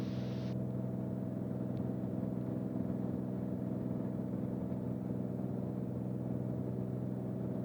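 A Beechcraft Bonanza's piston engine drones steadily at climb power during a missed approach, a constant loud, even cabin hum with no change in pitch.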